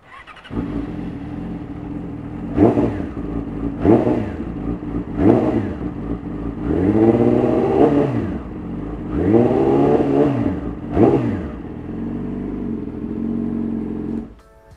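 A Yamaha R6 600cc four-cylinder motorcycle with an SC Project exhaust idles with a deep rumble, then is revved hard several times in sharp bursts, two longer sustained roars, settling back to idle.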